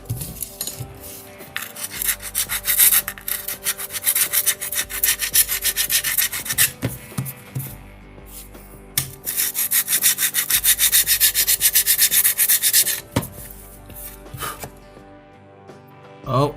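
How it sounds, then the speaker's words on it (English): A sanding pad rubs across the plastic casing of a D-Link AP7700 access point in quick, rasping back-and-forth strokes. They come in close bursts with short pauses between them. "I'm gonna try to get in there with the sanding pad."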